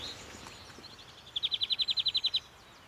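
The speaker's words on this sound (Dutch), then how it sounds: "Robert, de groenling." A greenfinch sings in a castle garden, a close, bright run of about a dozen quick, evenly spaced trilling notes in the middle of the stretch, heard over faint background bird calls.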